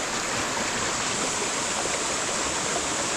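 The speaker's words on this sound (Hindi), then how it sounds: "तो देखें जी आगे ये पानी जा रहा" Water of a stream flowing through Kanhatti Garden in the Soon Valley, a steady close rushing wash that fills the whole clip without a break, with no voices heard over it.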